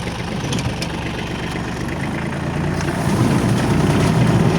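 Tractor engine idling at low revs in a potato field, a steady mid-low rumble that holds evenly and swells slightly louder toward the end, with no talk over it.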